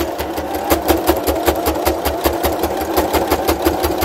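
A sewing machine running steadily while stitching a fabric face covering, a fast even rhythmic whirr and needle clatter, close and loud, with no talking.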